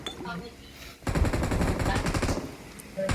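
Gunfire in a video game rattles in rapid automatic bursts, loud and dense for about two seconds after a quieter stretch, with voices talking around it.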